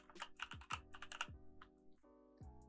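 Typing on a computer keyboard while entering labels in a GPU monitoring settings menu, a quick run of close, crisp key clicks followed by a few sparser taps, quiet and without talk.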